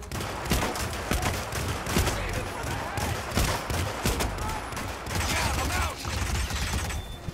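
Rapid gunfire in the video game Hitman, a dense stream of loud shots and bursts lasting throughout, with no clear pauses.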